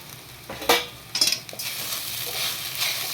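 A spoon scrapes and stirs sabudana khichdi mixed with peanut powder in a hot pan, giving a few sharp metallic clinks over a soft continuous sizzle, close by.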